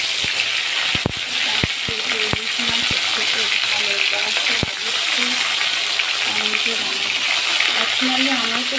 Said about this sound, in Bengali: গরম হয়ে গেছে, মাছগুলো দিয়ে দেবো।